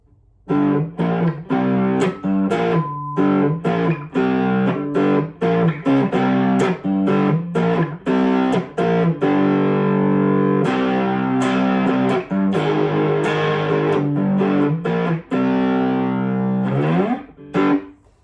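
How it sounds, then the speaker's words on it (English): Electric guitar, a homemade build made from junk parts, with heavy distortion plays loud, sustained chords and riffs, with short gaps between strummed phrases before ringing out at the end. "And want to go harder still, we've got the distortion."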